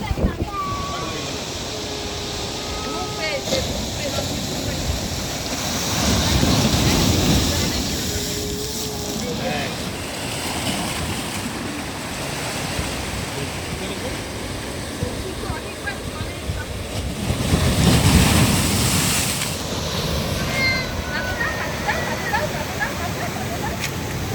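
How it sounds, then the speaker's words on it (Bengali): Sea waves break on the beach at Mandarmani, a steady roar of surf that swells into two louder surges, with wind buffeting the microphone throughout. "দেখলেন তো কীরকম ঢেউ"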